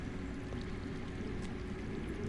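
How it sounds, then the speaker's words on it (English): Underground water flows as a steady, continuous rushing wash in Telltale's Game of Thrones video game, unbroken and fairly soft throughout, with no voices. "That's water. I hear water. From underground."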